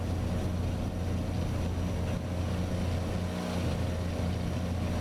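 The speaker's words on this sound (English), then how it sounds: "Jake brake action." Jake brake on a Peterbilt 389 heavy-haul truck in American Truck Simulator, a steady loud low engine rumble with a constant droning roar throughout, no voices.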